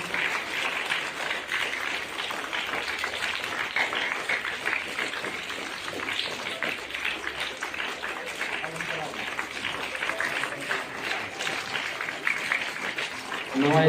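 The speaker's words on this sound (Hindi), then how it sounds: "Give a big hand, big hands." A crowd at a school safety-week event claps continuously, dense, even applause rolling on for the whole stretch with voices mixed in underneath.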